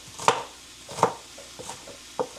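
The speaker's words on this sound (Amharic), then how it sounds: "የጥብስ ሽንኩርት እኮ እንደዚህ ነው የሚቆረጠው።" A knife chops onions for Ethiopian tibs on a cutting board: five sharp, close strikes at an uneven pace, with short pauses between them and no talking.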